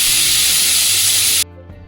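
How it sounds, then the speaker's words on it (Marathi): Pressure cooker whistling while cooking masala oats khichdi, a loud continuous hissing steam blast that cuts off abruptly, leaving quiet kitchen sounds. "एक उकळी आलेली आहे, एक शिट्टी होऊ देऊया।"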